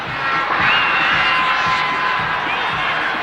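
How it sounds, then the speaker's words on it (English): Antrim supporters on their feet at Croke Park during a 1993 hurling match, a large stadium crowd applauding and cheering in a steady, dense roar with a commentator's voice over it. "The Antrim supporters standing on their feet, applauding their team."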